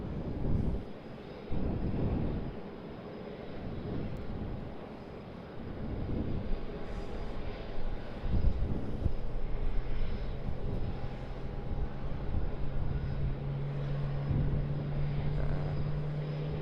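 Airliner engine noise at Sydney Airport, a steady broad roar with gusts of wind buffeting the microphone and a rising whine toward the end, fairly distant.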